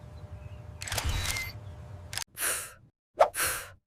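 A camera shutter sound effect fires twice in quick succession, sharp crisp clicks following a brief rustle of handling noise.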